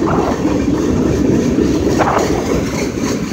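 A long train rumbles steadily past at close range, a continuous heavy roar of wheels and cars with faint clacking, no pauses throughout.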